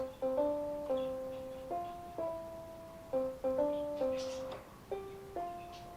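Piano notes sound one after another, some struck together as chords, each decaying softly; the playing is quiet and unaccompanied by speech.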